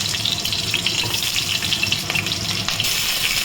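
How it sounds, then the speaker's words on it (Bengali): Potato pieces, cut into quarters, fry in hot oil with a continuous, fairly loud crackling sizzle and a few faint clinks and scrapes. Nobody speaks. "জন্য আলুটাকে প্রথমে ভেজে তুলে নিচ্ছি"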